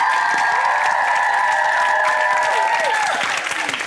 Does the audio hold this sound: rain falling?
no